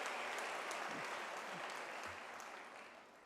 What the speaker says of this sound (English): can we give an applaud to our academics